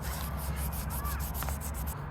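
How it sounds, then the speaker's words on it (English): Steady abrasive rubbing of sandpaper on the passenger side mirror base of a 1989 Nissan Sentra B12, continuous and close, with no talking. "I hate sanding, but this is what I have to do."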